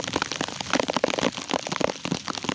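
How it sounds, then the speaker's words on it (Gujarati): Steady, dense patter of heavy monsoon rain in a village in the Porbandar–Devbhumi Dwarka area, with scattered sharp drop impacts, continuous and fairly close, no voices. "આ ગામની અંદર પણ છેલ્લા બે દિવસથી જોરદાર વરસાદ પડી રહ્યો છે"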